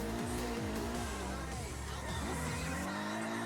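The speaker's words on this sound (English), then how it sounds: "There's a clutch kick, I heard that in there." A race car in a racing video game revs and shifts with a clutch kick, engine pitch sweeping up and down repeatedly alongside tire squeal, heard fairly close over a steady mechanical drone.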